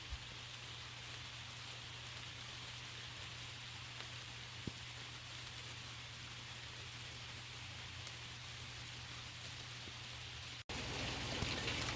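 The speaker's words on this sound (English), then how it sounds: "it's raining harder now" Steady garden rain falling in a constant soft hiss, faint and even throughout, growing slightly louder near the end.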